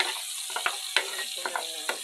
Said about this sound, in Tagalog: Lagay na natin yung bawang.